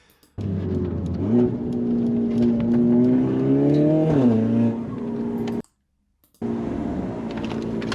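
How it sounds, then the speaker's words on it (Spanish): A Mercedes-Benz A 45 S AMG engine drones steadily with a rising, whistling turbo tone carried through the exhaust, cutting out abruptly near the end before resuming. "you can hear the turbo through the exhaust"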